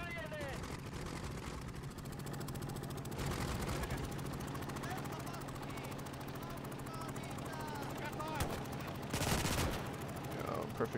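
Machine gun fire in the World War II strategy game Call to Arms: Gates of Hell, on the Eastern Front against Russian troops: steady rattling bursts under a continuous engine-like drone, with a louder burst near the end and someone talking throughout.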